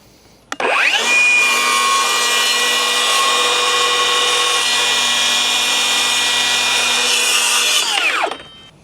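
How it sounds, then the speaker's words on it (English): A Milwaukee circular saw makes a full-depth bevel cut at 53 degrees through a soft 2x4, running as one loud, steady whine for about seven seconds from spin-up to wind-down, close up with no talking. "Full depth, full bevel, cut through a standard, you know, pretty soft 2x4, no problem."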